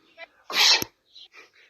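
A loud close sneeze explodes in the middle of the clip and ends in a sharp snap. Soft speech comes just before it, and brief murmured voices follow.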